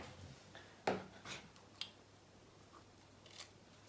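Scissors snip through sewing elastic for a casing, giving a few sharp close cuts spaced about a second apart over a quiet room.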